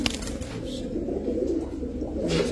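Pigeons, silver Bagha among them, coo in low rolling murmurs that blend into a steady close chorus without speech.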